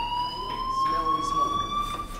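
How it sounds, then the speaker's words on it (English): Fire alarm in the game Life is Strange Remastered: a steady, piercing electronic tone drones continuously and loudly, with a faint murmur of background sound beneath. "do you hear that fire alarm?"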